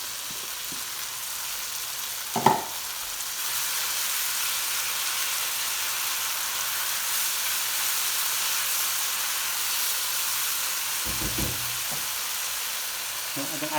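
Tandoori masala sauce frying in a pan, a loud continuous hiss and sizzle heard close up, broken by a couple of brief clatters of a utensil.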